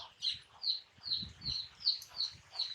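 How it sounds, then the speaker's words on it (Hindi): Finches chirp in quick, evenly spaced high tweets, with soft fluttering and rustling beneath as they fly inside a cage, close and fairly quiet. "फिंचिस इसके अंदर उड़ रही हैं"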